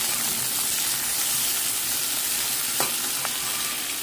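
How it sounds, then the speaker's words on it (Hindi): Garlic, onion and roasted cumin fry in hot oil in a pan, a steady loud sizzle and crackle throughout with faint stirring clicks, close up and without talk. "ये देखिए, लहसुन हमारा अच्छे से तड़क गया, इसमें हम प्याज डाल देते हैं और इसी के साथ डाल देंगे हम भुना हुआ जीरा।"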